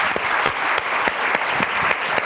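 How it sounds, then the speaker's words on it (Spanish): A live audience gives a steady burst of dense applause in a hall, the clapping close, loud and continuous for the whole stretch with no voices over it. "Más aplausos, gracias."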